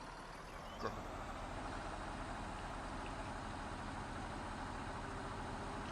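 A tractor engine drones steadily while pulling a load in the farming game Farming Simulator 19, a constant heavy hum that stays even throughout with one brief click near the start.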